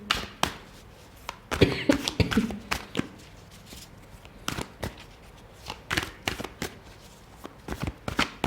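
Tarot cards shuffled, handled and drawn from a deck, giving a run of soft, quick close-up riffles and taps with short pauses between the handling bursts.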